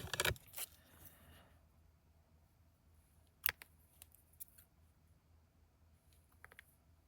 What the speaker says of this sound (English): they cut so easily with scissors